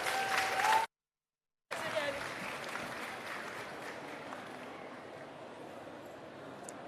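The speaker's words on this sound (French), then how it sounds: "Un tonnerre d'applaudissements, s'il vous plaît." An audience applauds at a women's entrepreneurship event at Vivatech, a steady wash of clapping that follows a brief cut and gradually softens, with no one speaking over it.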